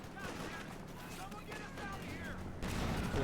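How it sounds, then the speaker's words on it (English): Gunfire from a Jackson tank destroyer in Company of Heroes 2, a wartime strategy game battle, heard as dense, continuous crackling battle noise that swells louder near the end, with a commentator's voice running over it. "Shots fired there on the Jackson"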